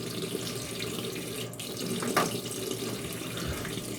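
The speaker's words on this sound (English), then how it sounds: "Now it's time to rinse my face" Tap water runs steadily into a bathroom sink while someone rinses their face, a continuous close splashing hiss with a few small splatters and no talking.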